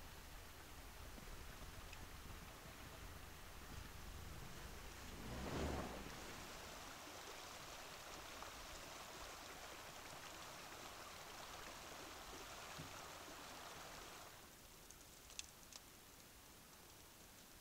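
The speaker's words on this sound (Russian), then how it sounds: "Пробую пересечь хитрый ручей в другом месте." A tricky mountain stream flows with a soft, continuous rushing hiss, faint and steady, briefly swelling a little partway through.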